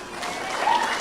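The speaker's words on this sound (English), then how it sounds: "You can applaud, it's fine." Audience applause at a fourth-grade school awards ceremony, a brief steady patter of clapping from a crowd, heard close.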